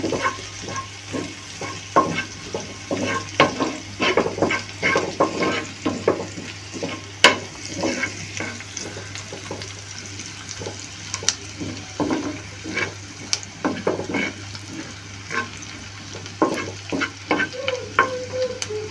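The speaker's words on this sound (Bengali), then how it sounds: "এবার আমি একটু হালকা ভাবে ভেজে নেব" Chopped onion lightly frying in a pan for homemade pizza, with a steady soft sizzle under repeated scraping and stirring strokes, fairly close and moderate in level, no talking.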